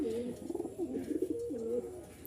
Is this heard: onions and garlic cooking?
no